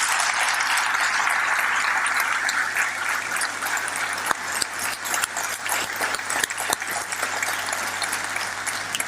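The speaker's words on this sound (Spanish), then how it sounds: "Por favor, otro fuerte aplauso para él." A room full of listeners claps warmly for a chemist being introduced at a history talk, a moderate, even patter of applause with a few sharper individual claps standing out near the middle.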